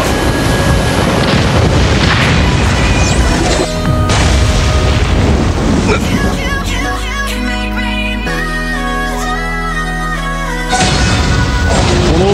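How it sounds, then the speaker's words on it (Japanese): Loud booming explosions and crashing impacts from a jutsu attack in the Naruto Online mobile game, layered with dramatic game music that swells and sustains throughout. "集中爆破だ!"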